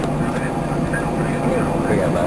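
A Boeing 747 at Manchester Airport gives off a continuous, fairly loud engine roar that holds steady throughout, with people talking over it.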